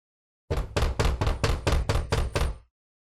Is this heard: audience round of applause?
no